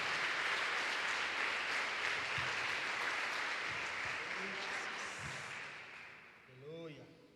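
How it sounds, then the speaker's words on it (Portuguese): Dense, steady applause from a large church congregation fills the space, tapering off near the end as a voice begins to speak over it. "diga aleluia, aplauda o Senhor"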